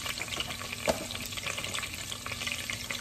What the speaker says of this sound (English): I'm just gonna deglaze this.